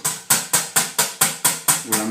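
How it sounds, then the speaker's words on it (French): Cream whipped by hand with a whisk in a tilted salad bowl, made for an iced mango cappuccino: eight sharp, evenly spaced rhythmic strokes, close and loud, with no talk. "vous prenez votre saladier, vous le mettez à biais, et là maintenant vous fouettez."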